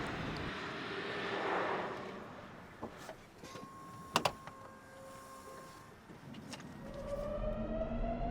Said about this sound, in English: You think of an EV as being completely silent, but from here it's not.